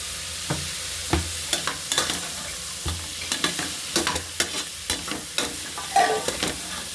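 Carrots and mixed vegetables sauté in a pan for vegetable biryani, with a steady sizzle broken by repeated scraping stir strokes of a spoon against the pan, close and moderately loud, with no talking.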